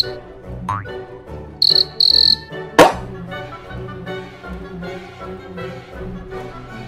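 Cricket chirping in short bursts, high and clear, with a couple of sharp trilled pulses near the start, a single knock, and quieter tonal sounds around it.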